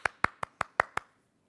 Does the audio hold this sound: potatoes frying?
no